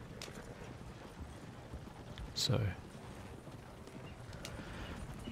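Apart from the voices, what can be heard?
horse hooves trotting in Red Dead Redemption 2 video game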